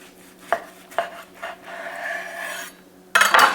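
A knife sawing into a skillet-fried steak on a board, with a few sharp taps followed by a steady rasping cut, then a louder scraping burst at the end, close and without talk.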